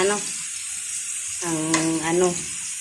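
Food browns in a frying pan for adobong sitaw, giving a soft, steady sizzle, with a short humming tone rising over it midway.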